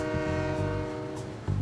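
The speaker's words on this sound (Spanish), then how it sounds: "Un tren es muy largo, tiene ruedas de metal y suena así." A train sounds its horn, a sustained harmonic blast that fades slightly and then swells again, with rumbling wheels underneath and no talking.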